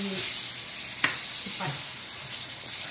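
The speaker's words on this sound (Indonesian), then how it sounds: "lepas tu kita masuk air panas" Hot water poured into a hot frying pan sets off a loud, steady sizzle with a bright, dense hiss, punctuated by a few short scrapes of a utensil, close up.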